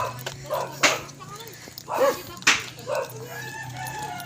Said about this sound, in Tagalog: May aso pa guys oh